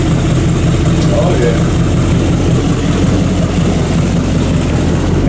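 A freshly built 350 small-block Chevy V8 runs during break-in with its ignition timing not yet set and its carburetor not yet adjusted, producing a loud, steady, close-up rumble that continues unbroken throughout.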